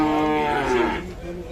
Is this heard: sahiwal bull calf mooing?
yes